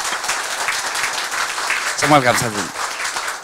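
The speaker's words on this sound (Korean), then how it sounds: "박사님한테 큰 박수 한번 주십시오" Audience applause follows a lecture at a Korean foundation forum, a steady patter of clapping running under a man's spoken thanks throughout the short stretch.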